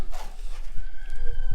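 A chicken clucks and calls close by on a homestead, a short burst of fowl sounds over a low rumbling background.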